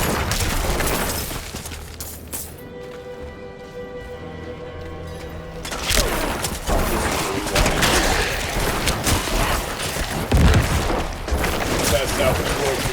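Explosions and gunfire-like booms burst from Diablo IV dungeon combat in a cemetery area, loud and dense, with a quieter, tonal lull in the middle before the blasts return; someone talks over parts of it.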